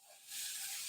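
Tempe and tofu fry in a pan with a bright, steady hiss that swells up after a brief moment and holds evenly, close and alone.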